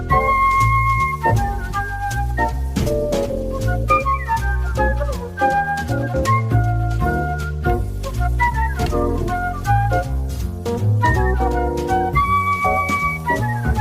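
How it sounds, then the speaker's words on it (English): Whistling and flute play the melody together over bass and drums on a jazz standard, a full, steady band sound with bright lines weaving throughout. "especially nice to me is the sound of whistling and flute together as heard on the head"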